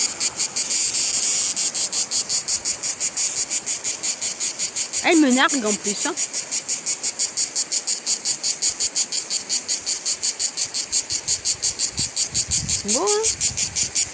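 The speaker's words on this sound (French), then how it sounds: "Je dois avoir juste une cigale au-dessus." A cicada shrills overhead in a steady, loud pulsing buzz that runs unbroken from start to finish, while a voice speaks briefly over it twice.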